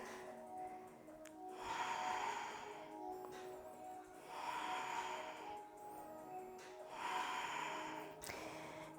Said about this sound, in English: Long breath.